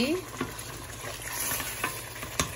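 Beef masala for Bombay-style biryani fries and is stirred in a pot, giving a steady low sizzle with occasional scraping clinks from the spoon, fairly quiet and close, with no talk over it.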